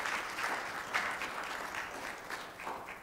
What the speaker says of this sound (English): It's all right to clap about that